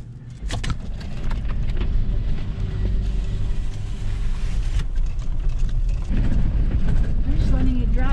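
A car's engine hums steadily as the vehicle drives itself over rough off-road terrain while overlanding, with bumps and rattles, a sharp knock near the start, and people talking over the noise.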